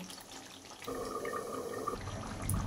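Water poured into a pot of chicken curry, a steady splashing pour lasting about a second, then a softer rumble, faint and close with no voices.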